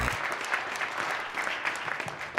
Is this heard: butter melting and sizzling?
no